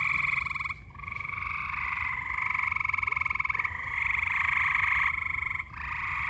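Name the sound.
frogs croaking near a backyard pond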